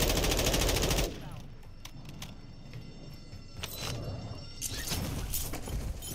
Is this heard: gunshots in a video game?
yes